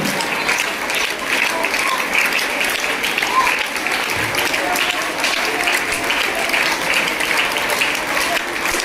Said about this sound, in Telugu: అందరూ చప్పట్లు ఆగిపోతున్నారు